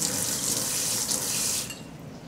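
Steady high-pressure stream from a kitchen faucet, loud and close, running for about a second and a half and then cutting off, leaving a quiet, faint hiss.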